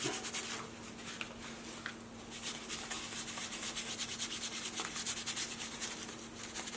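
A down-filled winter padded jacket sleeve is scrubbed by hand with neutral detergent during home washing, producing a steady, soft, close rubbing and brushing texture that continues quietly throughout with no talking.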